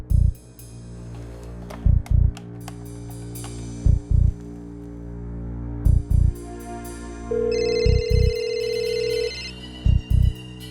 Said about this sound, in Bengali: ফোনটা তো ওপরেই বাজছে, যা একটু দেখ তো গিয়ে।